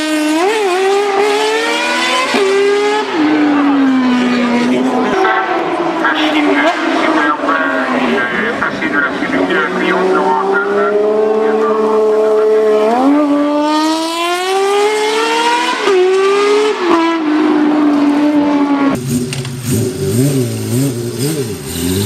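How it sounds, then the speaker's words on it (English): Honda CBX 1000 motorcycle, its inline-six engine revving hard in a loud flyby, pitch climbing through gear changes and sweeping past up close, with a brief different engine tone near the end. "the sound of the CBX doing a flyby"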